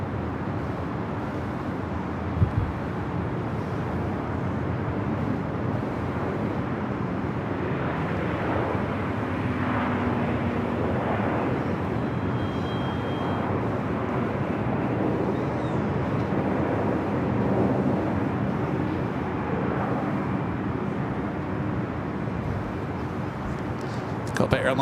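Boeing 747 taxiing along Alpha at LAX, a broad, distant jet engine rumble holding steady for the whole stretch, with a voice talking over it.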